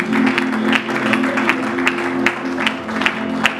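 A church congregation applauds and cheers for Jesus, with steady rhythmic clapping from many hands close by and crowd voices mixed into the noise throughout.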